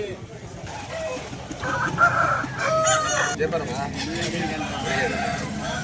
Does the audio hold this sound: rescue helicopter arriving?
no